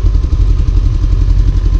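A tractor engine runs at low revs near a fishing spot, with a deep, throbbing chug and a clattering rhythm that is loud and close and goes on steadily, with no talk.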